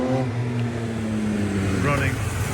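A Honda CBX1000Z six-cylinder motorcycle engine idles close by with a smooth, steady hum, while someone talks over it.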